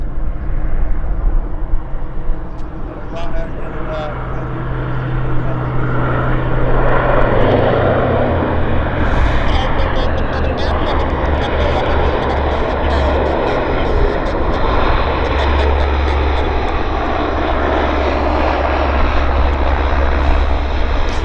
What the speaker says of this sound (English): Noisy little airplane, isn't it?